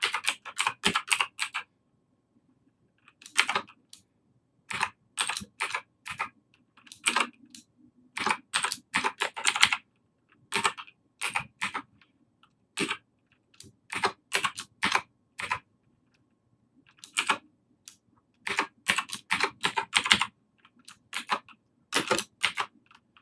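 Rapid bursts of computer keyboard typing while entering Excel formulas, crisp close clicks in irregular runs separated by short silences, with no talk.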